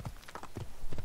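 Horse hooves clip-clop in the Assassin's Creed video game while riding toward Damascus, a steady run of hoofbeats at close range with no talk over them.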